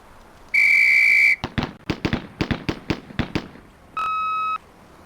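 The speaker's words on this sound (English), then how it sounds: "On the whistle." Police Quest SWAT video game: a long, shrill whistle blast sounds the start of a firearms drill, followed by a rapid string of gunshots from the shooting run and a short electronic tone at the end.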